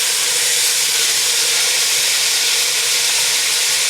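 Peppers and onions cook loudly in a pan for Cuban ropa vieja, giving a steady, dense sizzling hiss that runs unbroken and close throughout, with no talking.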